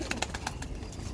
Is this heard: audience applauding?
no